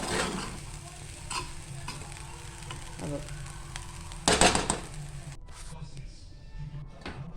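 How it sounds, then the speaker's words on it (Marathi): Tempered fried rice, phodnicha bhaat, stirred in a pan over low heat, a soft sizzle with scraping spatula strokes and one louder clattering burst, and a faint voice talking underneath. "इथे आपण पुन्हा एकदा ढवळून घेतोय।"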